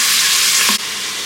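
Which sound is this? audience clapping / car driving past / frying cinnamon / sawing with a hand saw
frying cinnamon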